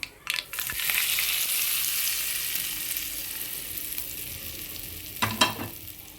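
Raw banana yogurt chutney drops into a hot tempering with a loud burst of hissing sizzle that slowly fades while it keeps frying. Sharp clanks of a spoon against the pan come at the start and near the end.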